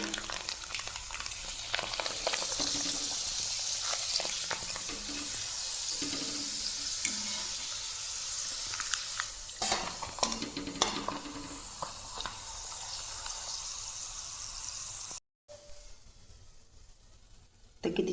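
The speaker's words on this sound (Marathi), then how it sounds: "तर तेल छान तापलेलं आहे आणि हा पापड मी तुम्हाला तळून दाखवते" Homemade rice papad frying in hot oil in a kadhai on a gas stove, a steady close sizzle and crackle with some stirring, ending abruptly near the close.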